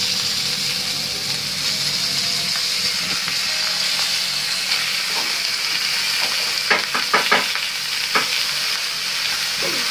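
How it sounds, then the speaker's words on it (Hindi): Butter sizzles on a hot sizzler plate of fried Bombay duck (bombil), giving a loud, steady hissing fry with a few sharp crackles and pops near the end. "ये बोंबिल फ्राई है, थोड़ा सा सिजलिंग इफेक्ट के लिए बटर डाल दूंगी।"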